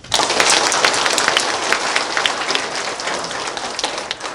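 A meeting audience in a banquet hall at a family association gathering claps together, a dense, even wash of applause that starts suddenly and holds steady at moderate loudness.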